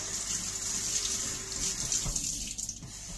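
Tap water runs steadily into a container, a soft continuous hiss and splash at moderate distance, with a brief clatter near the end.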